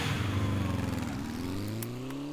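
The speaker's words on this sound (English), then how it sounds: "hearing the bike's engine roar to life" A motorcycle engine in the video game 428: Shibuya Scramble roars to life, revving up with a rising pitch over about two seconds, loud and close.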